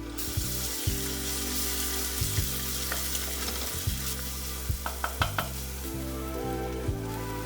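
Ginger garlic paste sizzling in a pan with browned onions for chana masala, a steady close crackle under repeated low scraping strokes of a spatula and a few sharp clinks.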